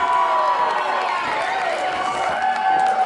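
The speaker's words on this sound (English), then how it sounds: "This crowd going crazy here for the Irishman" A wrestling crowd roars and cheers without letup for an Irish wrestler, its dense noise filling the hall while a commentator speaks over it.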